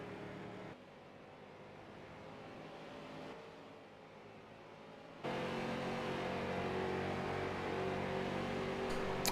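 Race cars lapping in the iRacing simulator during qualifying at Texas, a continuous engine drone that swells louder partway through, steady and fairly quiet, with no talking.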